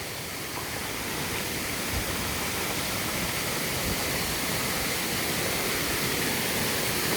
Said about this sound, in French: Avec le beau bruit de la cascade,